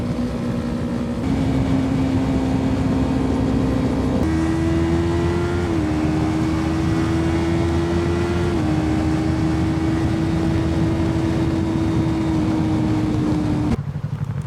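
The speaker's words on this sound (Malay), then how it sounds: "Bising lah motor dia." An R25 motorcycle engine drones loudly and steadily at high revs, its pitch shifting slightly as it shifts and holds, a constant roaring hum that cuts off abruptly.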